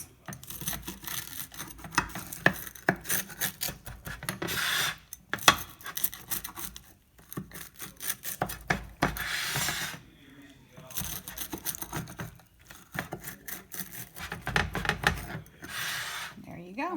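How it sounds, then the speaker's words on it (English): Pizza cutter rolling through a vegan quesadilla to slice it into triangles, rough scraping and rubbing strokes in irregular bursts against a board, close by, with speech in between. "now we're just going to take our pizza cutter and we're just going to cut it into triangles"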